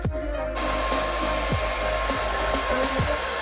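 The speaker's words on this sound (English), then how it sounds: "Now I'm just blow drying my hair because I can't wait for it to air dry" A handheld hair dryer blows steadily at close range to dry freshly relaxed hair at home, a continuous loud whooshing hum with faint clicks and shifts as it moves.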